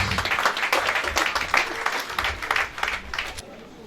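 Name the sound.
applause at a memorial mass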